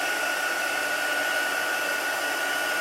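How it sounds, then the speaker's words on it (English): A heat gun blows steadily on copper embossing powder during a watercolour heat-embossing craft session, a loud, constant broadband whoosh with a faint whine running throughout, alone with no talk. "I'm going to quickly zap it with my heat gun."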